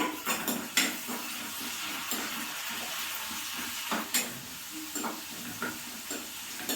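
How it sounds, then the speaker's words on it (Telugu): Fenugreek seeds fry in a pan over medium heat, giving a soft continuous sizzle broken by repeated clinks and scrapes of a spoon stirring against the metal. "ఒక 20 వరకు మెంతులు ఇవి వేసేసుకుందాం. ఇవి వేయించుకుందామండి."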